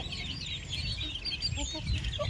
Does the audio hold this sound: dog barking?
no